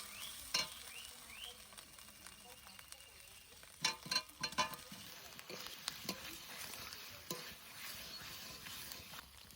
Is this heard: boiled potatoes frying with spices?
yes